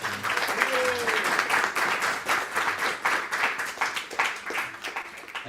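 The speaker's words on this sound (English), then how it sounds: "Let's give a big round of applause for the family." Devotees at a home program give the host family a round of applause: sustained, fairly close clapping from a small group, pulsing unevenly and fading toward the end, with a voice speaking briefly underneath.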